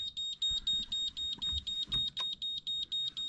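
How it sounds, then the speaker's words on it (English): A rapid electronic beeping waypoint arrival alarm from a sailboat's navigation instrument, a steady train of short high-pitched tones repeating about every quarter second, fairly loud and close. "waypoint arrival alarm on the instrument."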